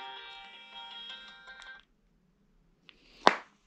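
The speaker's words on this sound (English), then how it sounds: "The alarms are ringing." A timer alarm sounds for a home COVID test, a steady multi-tone electronic ringing that holds for almost two seconds, then stops, followed by a faint click and a sharp nearby knock.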